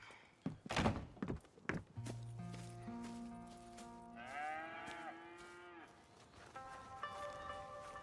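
Dairy cows in the Red Dead Redemption 2 video game moo in long drawn-out calls, several overlapping, after a few heavy thunks and footsteps at the start, with steady ambient background throughout.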